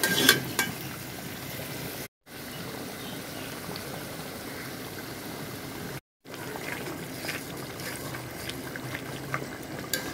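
Liver curry in a pan after a little water is added, giving a steady bubbling sizzle that runs throughout, broken by two brief silences, with no talk.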